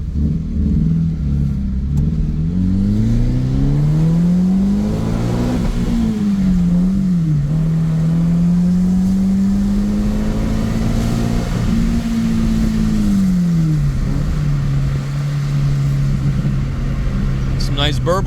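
A manual Subaru BRZ engine revving steadily with a deep, droning exhaust, pitch rising and falling through the revs with burbling undertones, loud and close throughout while a person talks over it.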